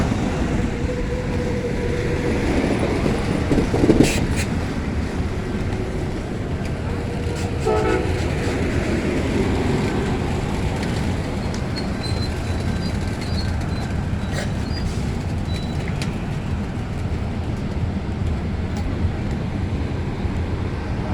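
Amtrak San Joaquin train 715, a doubleheader of SC-44 Charger locomotives, arriving at Hanford station: a steady, fairly loud rumble of rolling wheels and engines fills the whole stretch, with a brief horn-like burst near the start.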